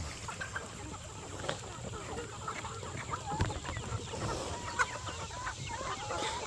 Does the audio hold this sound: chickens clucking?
yes